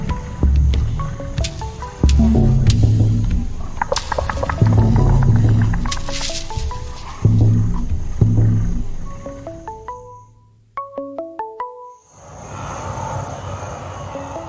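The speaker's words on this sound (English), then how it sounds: "But a lion has sauntered in to claim the feast." A lion in the African wild gives deep, rumbling roars and grunts in a repeating series, loud and close, with a brief quieter pause before rough outdoor noise resumes.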